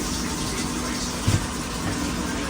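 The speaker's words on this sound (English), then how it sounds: "So we're adding some water to a pot." Water is poured from a tap into a cooking pot for boiling salt mackerel, a steady filling gush at close range with a couple of brief knocks midway.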